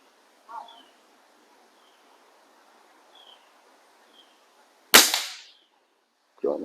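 A Theoben Eliminator .25 calibre air rifle fires one loud, close shot with a sharp crack and brief decay during a bench test. It follows near silence broken only by faint small sounds, and another sharp onset comes at the very end.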